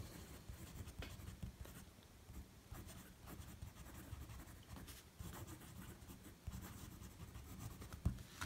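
A Fountain Pen Revolution Ultraflex nib fountain pen writing on paper, a soft continuous scratchy scribble with small stroke bursts, close and quiet, no voices.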